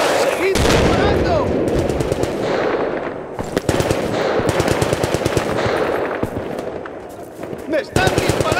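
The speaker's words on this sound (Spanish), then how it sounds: "¡Me están disparando!" Rapid machine gun fire in Battlefield Bad Company 2, long loud bursts of sharp rattling shots with brief pauses and a few heavier cracks, close up, with shouted voices in the thick of combat.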